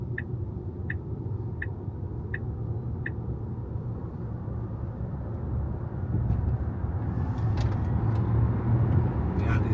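Steady low road and wind rumble fills the cabin of a 2025 Tesla Model Y Long Range AWD at 120 km/h on a highway, with a few soft ticks early on and the drone growing slightly louder later.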